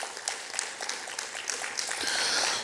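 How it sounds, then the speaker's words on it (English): An audience at a university institute event applauds panelists, with steady clapping from a crowd that swells slightly louder toward the end. "Let's give all of these panelists one more round of applause."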